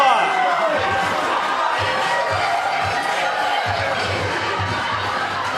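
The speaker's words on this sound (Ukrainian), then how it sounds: "Ваші овації!" Wedding guests at a Ukrainian celebration cheer and applaud in a roomful of mixed voices and clapping, a steady loud crowd roar with shouts rising through it.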